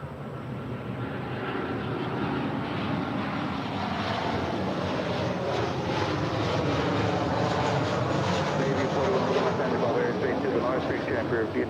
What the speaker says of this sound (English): that is Southwest Airlines 6512 coming in from Austin, Texas on a 737-700